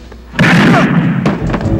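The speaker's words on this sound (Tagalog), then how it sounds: "Putok ng baril yun ah." A single sharp gunshot cracks out nearby, followed by a short rumbling tail and some background noise.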